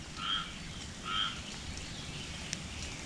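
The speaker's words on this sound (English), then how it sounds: "I haven't heard a frog all year long, but that was a frog" A lone frog croaks twice outdoors during a rainy day, two short calls about a second apart against a steady wash of rain and faint background noise, followed by a small tap, with no one speaking.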